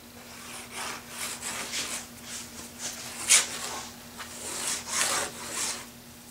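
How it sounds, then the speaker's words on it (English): A bandsaw cuts through guitar side wood, making a series of rasping, scraping strokes of varying loudness over a faint steady motor hum, close to the microphone. "cut it on the bandsaw"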